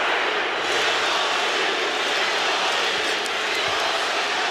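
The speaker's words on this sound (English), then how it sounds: "You hear the crowd for Triple G" A packed boxing arena crowd roars for Gennady Golovkin in his fight against Canelo Alvarez, a dense, loud, unbroken wall of cheering that holds steady throughout.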